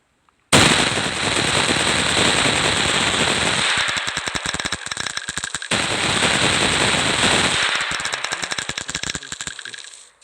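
An automatic weapon from a Minecraft gun mod fires in a loud, sustained rattling stream, stutters into separate bursts partway through, then resumes continuous firing before trailing off, with no talking.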